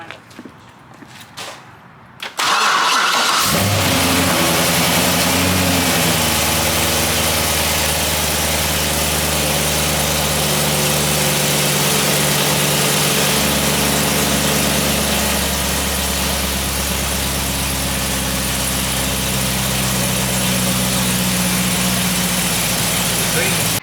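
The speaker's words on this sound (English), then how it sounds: "Turn this car on." A Chevrolet C6 Corvette engine cranks and fires up with a loud surge, then settles into a steady, deep idle that carries on for about twenty seconds.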